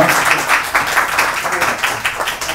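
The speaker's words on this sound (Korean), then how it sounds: "큰 박수 부탁드리겠습니다" Applause from the audience at a book launch celebration, broadband clapping that holds steady at a loud level throughout and is mixed with the murmur of the crowd.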